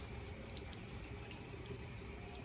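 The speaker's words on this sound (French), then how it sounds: "Là, on va mettre de l'eau froide." Cold water poured from a glass into couscous in a couscoussier, a faint, steady trickle and splash of liquid, close and alone.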